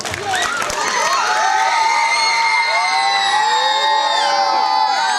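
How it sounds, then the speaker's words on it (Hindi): An audience of schoolchildren and guests at a primary and high school annual celebration in Bidar cheers and applauds loudly, with shrill whoops and shouts rising and falling over steady clapping for the whole stretch. "एक बार सेक्रेटरी साहब के लिए तालियां हो जाए"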